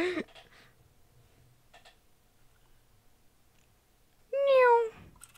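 A single loud, drawn-out cat meow from the video game Arachnophobia near the end, following a quiet stretch with faint clicks and a brief voice at the start.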